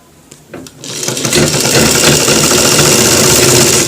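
A sewing machine stitches a belt loop onto pants, starting with a few clicks and then running in a steady, loud, close mechanical whir for several seconds.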